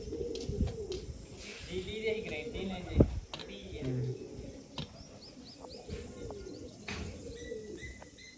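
Pigeons coo steadily at a rooftop loft, close and continuous, along with chirps and a few sharp knocks, while someone talks on and off over the birds.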